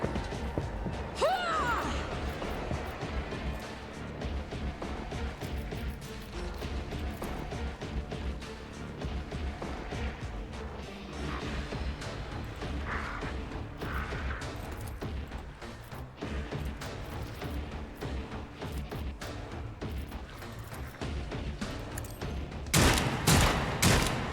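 Gunfire rattles through combat in Warhammer 40,000: Rogue Trader, with bursts of automatic fire, sharp single shots and crashing impacts layered over a continuous game soundtrack, building to heavier blasts near the end.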